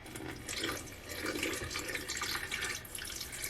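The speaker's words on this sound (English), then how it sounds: "I'm going to go ahead and pour the water in. This is the tap water that I got out of my faucet." Tap water pours into a water filter pitcher, a steady splashing and gurgling stream that runs continuously at close range.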